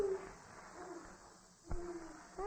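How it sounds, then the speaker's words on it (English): An owl hoots in a quiet night setting, a few soft hollow calls at low volume with a sharper sound partway through and otherwise near silence. "that's a very fine-sounding owl"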